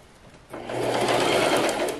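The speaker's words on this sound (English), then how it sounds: "I'm going to sew now" A sewing machine stitches a ribbon-trimmed tutu. After a quiet moment, a fast, continuous mechanical whir starts up close and runs steadily to the end.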